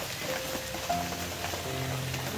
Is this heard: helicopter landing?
no